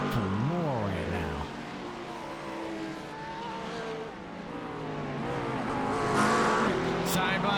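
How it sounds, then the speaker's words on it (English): A McLaren GT3 race car in the iRacing video game, bottoming out on the Charlotte Roval, its engine droning and shifting pitch with scraping and tire noise, loud and continuous with commentary voices over it. "You can just hear that McLaren bottoming out."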